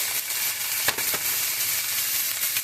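Sauerkraut dropped into a hot skillet with browned pork chops, giving a loud, steady, close sizzle and frying hiss with a couple of brief crackling bursts throughout.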